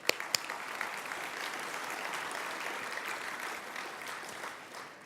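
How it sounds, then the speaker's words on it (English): An audience at the San Francisco Asian Pacific American Heritage Awards gives steady, sustained applause. The clapping is dense and continuous from a large crowd in a hall and stays even before tapering slightly at the end. "How about a round of applause for that?"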